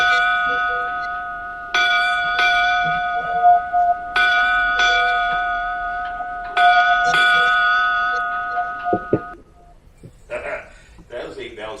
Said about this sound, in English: Those 8 bells sounded really different, didn't they?